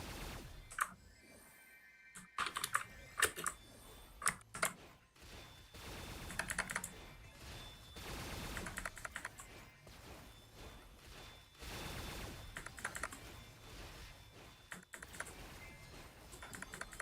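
Fingers type on an ortholinear computer keyboard in irregular bursts of clicky keystrokes with brief pauses, steady and close-miked over a quiet background, with no voices.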